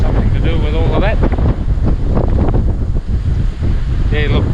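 Wind gusts at a remote outback site on the Aputula lands along the old Ghan line, roaring steadily and buffeting the microphone throughout, with a person talking over it.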